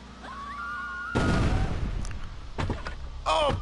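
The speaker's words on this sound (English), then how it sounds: "Let's just throw a grenade on it." In Grand Theft Auto: Vice City, a thrown grenade explodes with a sharp, heavy blast that decays into rumble, then is followed by further loud bangs and game noise.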